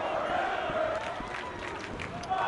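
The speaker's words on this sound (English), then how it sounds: "Crowd is pumped up tonight." Crowd noise at a live professional wrestling match between Danny Diamond and Alex Frost, a steady roar of voices and cheers filling the arena continuously, with a commentator's voice running over it.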